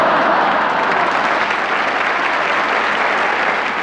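A television studio audience in 1985 bursts into loud, continuous applause, a dense, even wash of clapping that holds steady throughout with no voices standing out.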